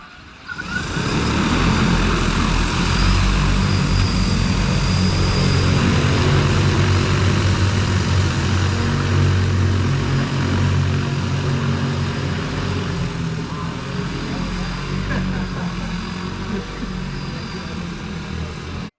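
A DJI Agras T40 spray drone flies over a farm with a steady, loud propeller roar and broadband rotor wash that holds throughout, fading only slightly near the end.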